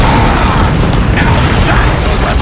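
Catapult shots striking an orc base in the game Lord of the Rings War of the Ring, a loud dense rumble of impacts and crashing debris filling the whole stretch.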